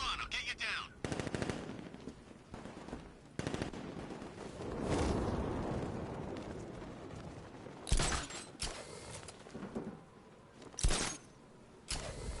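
Gunfire in Batman: Arkham Knight, sharp bursts of shots and fusillades crackling in clusters across the scene, loud and close, with a few heavier blasts and brief shouted game voices mixed in.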